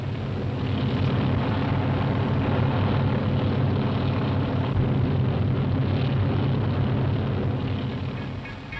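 A steady, loud engine drone of a helicopter in flight holding constant throughout, easing slightly at the end.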